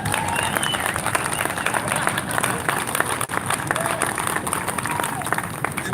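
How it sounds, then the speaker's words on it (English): A large crowd at a political rally applauds continuously, a dense, steady wash of clapping with scattered voices mixed in, loud and unbroken throughout. "Give that a round of applause."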